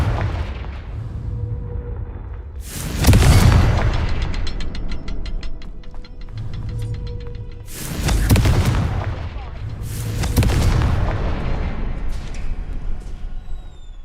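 Explosions from the Confringo spell in Hogwarts Legacy: three heavy blasts boom out several seconds apart, each followed by a rattling, crackling tail, over a low rumbling game ambience.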